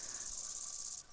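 Bush crickets stridulate in a continuous high, hissing buzz that holds steady and then thins out near the end, heard alone and fairly faint.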